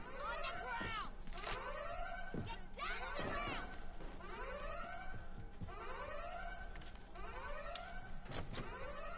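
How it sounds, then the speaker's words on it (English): A bank alarm in Payday 2 wails in repeated sweeping whoops, cycling steadily about once a second, with sharp bursts of other noise scattered between the cycles. "That's the alarm."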